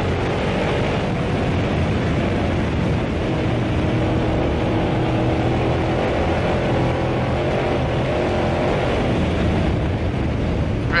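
A Ford Raptor truck races down a dirt road in Baja, giving a continuous loud roar of engine, tires and wind buffeting that holds steady throughout.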